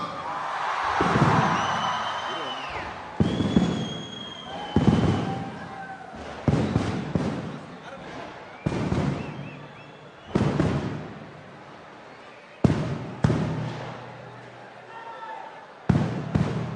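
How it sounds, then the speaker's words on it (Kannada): Fireworks burst at the Kanakotsava festival stage event, a series of loud, sharp bangs spaced every second or two, with someone speaking over a public address system throughout. "ಸಿಡಿ ಮದ್ದಿನ ಸೌಂಡ್ ಜೊತೆ"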